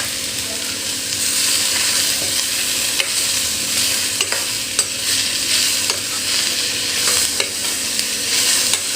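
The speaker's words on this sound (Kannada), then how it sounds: "ಇದಕ್ಕೆ ತೆಗೆದಿಟ್ಕೊಂಡಿರೋ ಅಂಥ 2 ಮೆಣಸಿನ್ಕಾಯಿನ ಹಾಕ್ಕೊಳ್ಳೋಣ." Two green chillies fry in hot oil in a pan as tomato chutney is started, a bright continuous sizzle broken by frequent scraping clicks of a spoon stirring, close and fairly loud with no voices.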